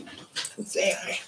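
A young German Shepherd puppy makes soft breathy panting and whimpering noises close by while a person speaks briefly.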